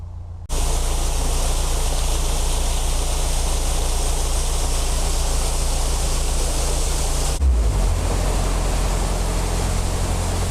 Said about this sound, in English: There's all the water going into the side pound.